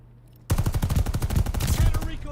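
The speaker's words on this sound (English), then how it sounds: "I thought I heard a silencer." Gunfire in the Call of Duty: Vanguard video game, where a sudden loud burst of rapid, closely spaced shots breaks out after a quiet moment and keeps going to the end.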